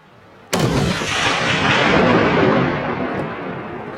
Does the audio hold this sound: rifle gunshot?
yes